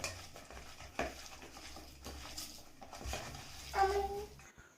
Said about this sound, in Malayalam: അവസാന സ്റ്റെപ്പാണ് കടലമാവും കൂടി ഇട്ട് മിക്സ് ചെയ്യുക